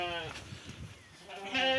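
In a crowded sheepfold, sheep and young lambs bleat in short overlapping cries, close and fairly loud, with a softer stretch between calls.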